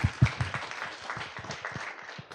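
An audience at a student orientation day applauds, with a few loud, close claps at the start that thin into a softer, scattered patter.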